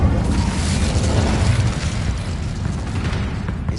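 An Incendio fire spell is cast in the video game Hogwarts Legacy, producing a loud, dense, roaring whoosh of flame with heavy low rumble that stays sustained throughout.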